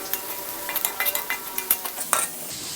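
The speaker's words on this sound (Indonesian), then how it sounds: "Bawangnya sudah mau mulai menguning, sampai dia menguning." Shallots frying in oil in a pan while being stirred, with a steady close sizzle broken by repeated scraping strokes of the utensil, no talking.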